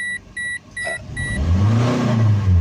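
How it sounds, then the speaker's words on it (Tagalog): Toyota Vios engine with an oil sending unit fault, first a repeated electronic warning beep in short pulses, then the engine running loud and rough with a low, uneven rumbling drone up close. "narinig nyo, naging maingay yung makina. Rough idling na siya."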